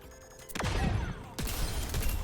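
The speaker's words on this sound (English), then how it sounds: "So it's literally just a grenade." A grenade thrown in Overwatch detonates twice in a row, each blast a loud sharp burst with a sweeping falling tail, close and alone over faint game ambience.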